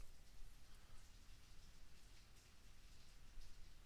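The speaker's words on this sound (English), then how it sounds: "I can hear the rain outside my window." Soft, steady rain patters outside, a faint continuous hiss with scattered drops and no voices.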